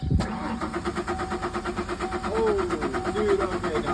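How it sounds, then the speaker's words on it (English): A Ford Ranger Baja truck under rebuild, running on its own fuel supply, starts with a sharp burst and settles into a rapid, rhythmic chugging. The engine pulses stay loud and close, with a faint whine wavering above. "time to see if she'll start on its own fuel supply"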